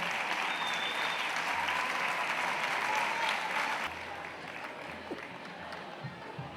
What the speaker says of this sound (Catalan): Un fort aplaudiment pel Club Patí Gramenet.